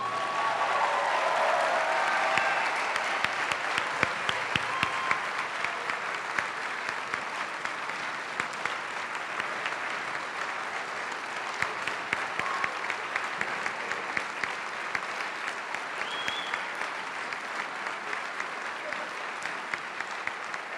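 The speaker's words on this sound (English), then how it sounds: "Don't stop clapping." Sustained applause from an audience greeting the medical class of 2018 at a white coat ceremony, loud and steady throughout with a crowd murmur beneath and a voice briefly heard over it.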